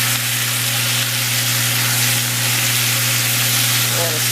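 Zucchini and mixed vegetables sizzle loudly and continuously in a hot pan while being stirred, with a steady frying hiss and a constant low hum underneath.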